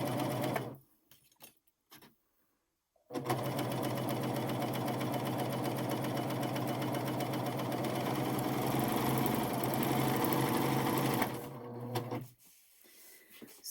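An admire air 7000 machine sews a blind hem on lace, running as a steady, close, continuous mechanical whir for about eight seconds after brief quiet handling noises, then stopping.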